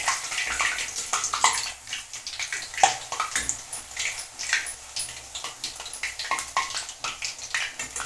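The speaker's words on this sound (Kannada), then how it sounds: "ಇವಾಗ ಎಣ್ಣೆ ಕಾದಿದೆ, ಕರಿಯೋಣ. ಮೀಡಿಯಮ್ ಉರಿನಲ್ಲೇ, ತುಂಬ ಕರಿಯೋಂಗಿಲ್ಲ," Makhmal puri dough fries in hot oil over a medium flame, a dense, close bubbling sizzle that rises and falls in uneven bursts, with no voices.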